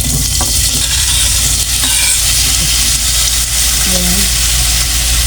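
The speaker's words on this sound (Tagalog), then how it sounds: "Dahil piprituhin po muna natin saglit yung tokwa." Tofu cubes frying in hot oil, a steady loud sizzle throughout with occasional bubbling pops and faint clinks of a utensil stirring.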